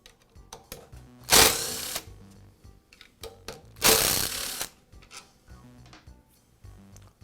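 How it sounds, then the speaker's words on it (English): Screws are backed out of the lower handle of a DeWALT chop saw, where it fastens to the motor housing. Two loud, raspy bursts of a driver turning stand out, with quieter ratcheting clicks and handling noises between them. "Now I'll remove the two screws on this side of the lower handle that secure it to the motor housing."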